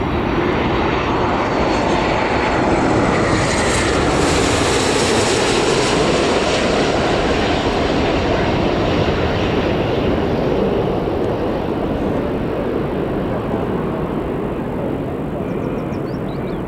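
An airliner arrives at Newcastle Airport, its engine roar loud and steady, swelling and slowly fading as it passes, with a voice faintly under the noise.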